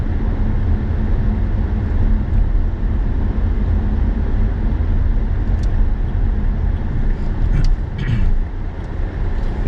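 A car drives through Bucharest's well-lit city streets at night, giving a steady, close engine and road rumble with tyre noise and a few faint higher clicks and squeaks toward the end.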